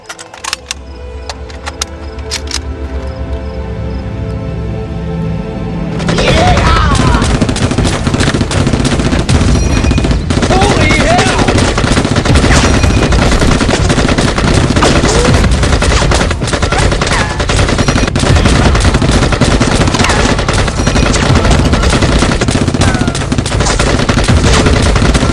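Sustained, dense machine gun fire in an action film shootout, loud and continuous after a quieter opening, with rapid overlapping bursts and clattering debris.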